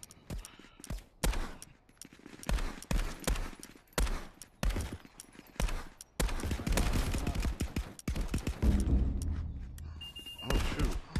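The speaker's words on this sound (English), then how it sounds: "That shotgun is devastating." Shotgun fire in Contractors VR: a rapid run of loud, punchy blasts, some closely spaced and some spread apart, ending in denser overlapping shots and clatter.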